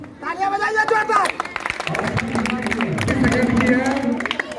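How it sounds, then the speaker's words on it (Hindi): Audience at a school Republic Day celebration claps for a prize winner, scattered applause mixed with loud talk and crowd chatter throughout. "तालियां बजाइए जोरदार"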